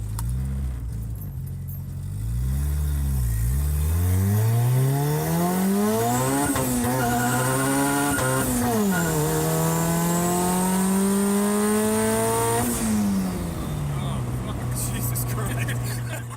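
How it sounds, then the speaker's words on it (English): A turbocharged car run at full throttle through first and second gear, engine note climbing loudly, dropping at a shift, then climbing again under steady close-up cabin noise. "we did go ahead and do another pull, this time with full throttle through first and second"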